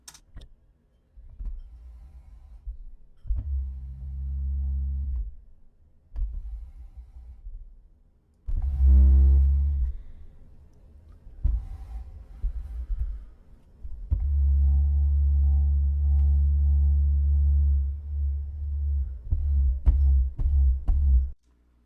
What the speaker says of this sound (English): That is the sound of a chair moving.